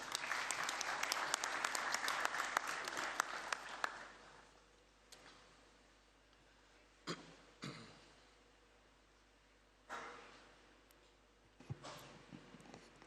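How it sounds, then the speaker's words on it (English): Assembly audience at a CAF football confederation general assembly applauding for about four seconds, dense clapping that then fades into scattered coughs, throat clearing and small hall noises. "Can we clap hands for Gianni?"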